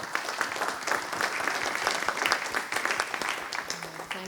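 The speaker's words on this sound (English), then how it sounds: "can we have a round of applause, please?" An audience at a conference session on college athletes' rights gives a steady round of applause, dense individual claps blending into a moderate, even wash that persists throughout.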